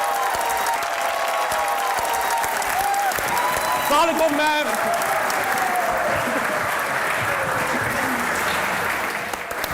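A studio audience on a comedy talk show claps and cheers to welcome two guests, a thick sustained roar of applause throughout while a host and a woman exchange brief greetings over it.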